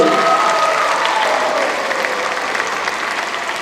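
A loud, dense burst of audience applause fills a Brooklyn borough arts festival opening, many hands clapping steadily and close, slowly easing off.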